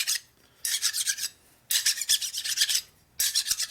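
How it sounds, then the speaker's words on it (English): A fine hand file deburrs a metal drill fixture for a twin cam compression release tool, giving three bursts of close, bright rasping strokes separated by short quiet gaps. "Take a fine file to take off any burrs that we might have left on there"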